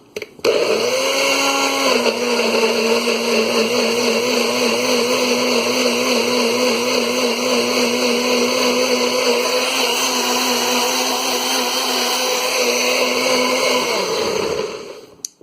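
A blender whirs loudly and steadily for around fifteen seconds blending sofrito ingredients with a little water, its motor pitch dipping slightly as it starts, then grinding on before switching off.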